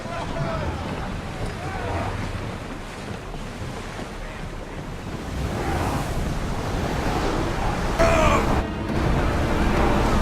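Ship sailing on open sea in Assassin's Creed Odyssey: a steady wash of ocean waves and wind noise around the hull, swelling louder in the second half, with faint voices underneath.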